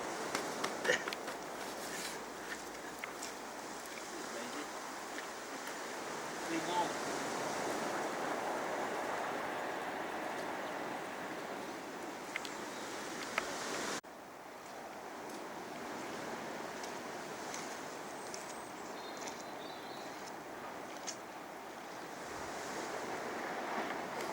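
Storm waves crash and roar continuously along the shore at Dawlish in rough weather, a loud, broad surf wash with heavy wind buffeting the microphone throughout.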